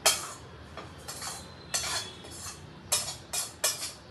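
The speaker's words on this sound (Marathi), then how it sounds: "आता फक्त हलवून घ्यायचं" A spoon scrapes and clinks around a hot pan as roasted coconut is stirred with the heat off, giving sharp scraping strokes at irregular intervals, close and fairly clear.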